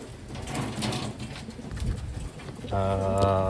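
Pigeons in a Taiwanese bird loft coo in bursts, with a loud sustained coo near the end, while someone talks over them.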